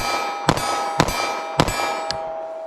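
A 9mm subcompact pistol loaded with Speer Gold Dot G2 rounds fired rapidly at a target: four sharp, loud cracks about half a second apart, each with a ringing tail, and no talk.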